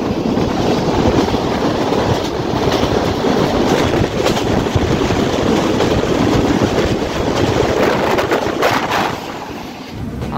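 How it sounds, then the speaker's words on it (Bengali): Benapole Express passenger train running through rain, a steady dense rumble and rattle of carriages with broadband rain and wheel noise throughout, close and continuous, easing slightly near the end. "বৃষ্টির মধ্যে ট্রেন জার্নি"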